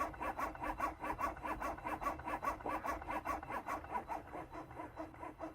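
A Medela Symphony breast pump running, giving a steady, fast rhythmic cycle of soft mechanical suction pulses that repeat evenly throughout, close up with no talking.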